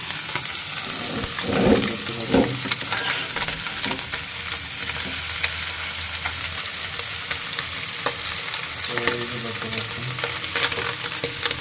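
Small puti fish fry crisp in hot oil in a pan, giving a steady, dense sizzle throughout, with a brief louder stir-and-scrape near the start.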